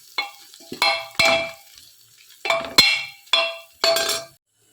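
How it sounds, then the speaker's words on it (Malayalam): A spoon scrapes and clinks in a pan as chilli, coriander, turmeric and fennel powders roast, in six or so sharp stirring strokes with quiet gaps between them. "ഇനിയിപ്പോൾ മുളക് പൊടി, മല്ലിപ്പൊടി, മഞ്ഞൾ പൊടി, പെരിഞ്ജീരകം പൊടിച്ചത് എല്ലാം കൂടെ ചേർത്തൊന്ന് മൂപ്പിക്കുവാണേ"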